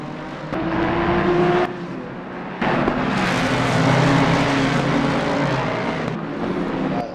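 GT3 race cars run side by side in Assetto Corsa Competizione at Spa, one car with a loud V8, giving a sustained engine roar that drops out briefly, then returns louder with a passing surge.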